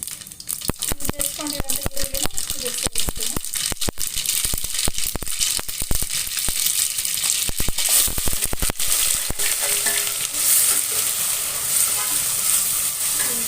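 Onion and mustard seeds fry in hot oil for a sambar of sprouted green gram, a dense, loud, continuous sizzle broken by rapid crackling pops and scraping stirs, with a voice faintly present underneath.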